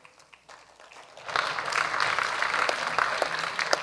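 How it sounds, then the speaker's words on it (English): An audience at a Christian apologetics talk on miracles breaks into applause after a quiet pause, the clapping swelling quickly to a dense, moderately loud patter that carries on to the end. "That was a weaker applause than the CNN line."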